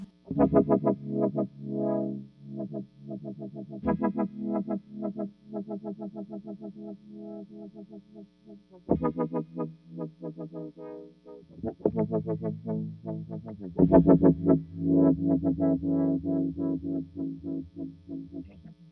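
A distorted Step Audio Pilot Wave synthesizer in rebound mode plays a rapid repeating note sequence that runs ahead and then bounces back, in several loud pulsing passes with brief gaps between.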